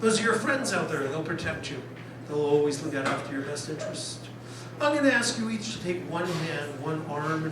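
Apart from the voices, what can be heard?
None of the usual background noises is heard.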